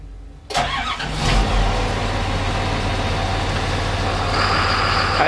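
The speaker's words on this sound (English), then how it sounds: "You can hear what it sounds like inside the cabin with the engine running." An ALLTRACK AT-80HD tracked carrier engine starts, heard from inside its cabin: a short crank after half a second, then a steady, loud, low diesel drone that holds to the end.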